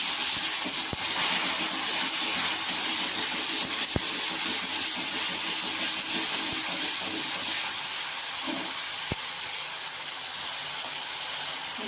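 Ground spice paste frying in hot oil with cumin seeds and bay leaf, a loud, steady sizzling hiss that runs unbroken throughout, with a few faint clicks beneath it and no talking.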